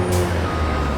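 A heavy truck in the Farm Sim video game backs up slowly near a train trestle, its steady reversing beeper sounding over a constant low engine drone, with no talk.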